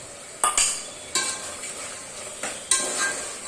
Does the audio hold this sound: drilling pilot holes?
no